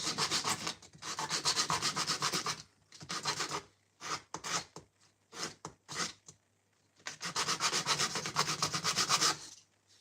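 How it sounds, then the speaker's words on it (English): Bursts of coarse rubbing and scraping from sanding a wooden skateboard, a few seconds each, separated by brief pauses and short strokes, close and fairly loud. "Sanding down"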